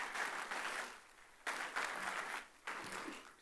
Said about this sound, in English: A big round of applause for Kapil Bhatnagar.